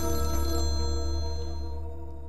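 Mobile phone ringing with a steady electronic ringtone, loud and close, its sustained tonal chime continuing throughout and fading slightly toward the end, with no talking over it.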